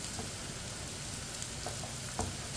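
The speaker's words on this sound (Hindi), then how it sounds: "2-3 मिनट के लिए मैंने फ्राई कर लिया है। हल्की सी ब्राउन हो चुकी है अरबी।" Taro root (arvi) fries in oil, giving a soft, even crackling sizzle at low level with a few faint clicks and stirs.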